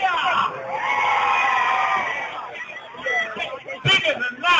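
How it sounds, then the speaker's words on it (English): A crowd at the Trowbridge Christmas light switch-on in 2008 lets out a sustained cheer of shouts and whoops that lasts about two seconds, then fades into scattered voices and talk. "And a big cheer!"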